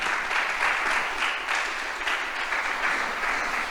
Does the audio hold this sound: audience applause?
yes